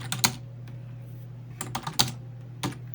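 A computer keyboard is typed in quick clusters of crisp keystrokes over a steady low electrical hum, fairly close and clear with no talking.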